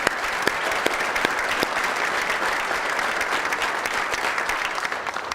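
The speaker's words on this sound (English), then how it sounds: "So a round of applause for them." A banquet audience applauds at an awards dinner: dense, steady clapping from a large crowd that holds at full strength for about five seconds, then starts to thin out at the very end.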